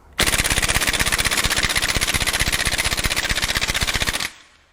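An impact wrench hammering on the crank pulley bolt of a Honda Civic D16Z6 1.6L SOHC VTEC engine, a loud, close, continuous rapid rattle of impacts lasting about four seconds before it cuts off.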